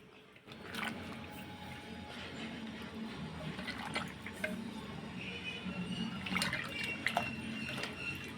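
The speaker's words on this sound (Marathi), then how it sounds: "भाजी एक दोन तीन पाण्याने धुवून घ्यायची" Wild leafy greens (fandi bhaji) being swished and rinsed in water, quiet sloshing and dripping with occasional splashes, close and low in volume.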